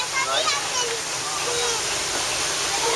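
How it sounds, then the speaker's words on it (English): Small waterfalls splash and rush steadily close by on a Kilimanjaro safari ride, a continuous broadband roar of falling water with no clear breaks. "some pretty little waterfalls coming up here on the left"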